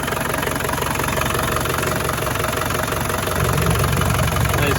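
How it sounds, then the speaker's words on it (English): A 1990 Land Rover Defender 110 with a 200tdi diesel engine idles steadily and close, a loud, even, rhythmic diesel clatter that grows slightly heavier toward the end. "Engine runs like a top, nice and smooth."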